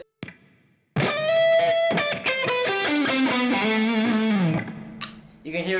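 A distorted Yamaha SG800 electric guitar with its humbucker coil-split rings out in a fast, driving phrase with slightly thinner tone, cutting off abruptly near the end.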